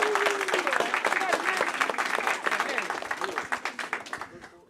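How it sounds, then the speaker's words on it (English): Audience applause for the mayor at a 9th grade academy football ceremony, dense sustained clapping from a crowd that starts loud and gradually thins to scattered claps, with voices and a cheer mixed in. "Give a round of applause for our mayor, Mayor Barty."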